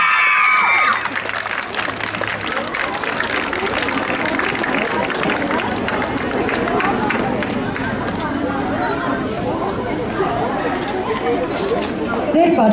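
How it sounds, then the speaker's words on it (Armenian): Sustained applause and cheering from an audience welcoming young performers from a children's art school at a festival in Dilijan, with crowd chatter mixed in; dense, steady clapping that fills the whole stretch. "և իհարկե բարձր ծափերով դիմավորում ենք"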